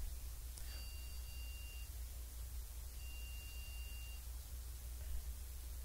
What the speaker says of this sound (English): Beep, beep, beep. 3 beeps.